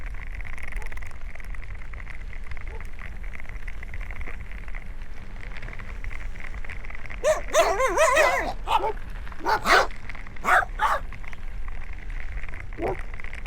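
A dog barks outdoors near a trail by a lake, a short cluster of sharp yips and barks in the middle of the clip over a steady background hum, then a final brief yelp.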